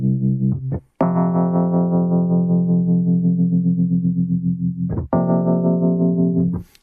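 Electric piano chords ring out with a warm, wavering tremolo: a couple of quick stabs, then one long sustained chord and a final held chord.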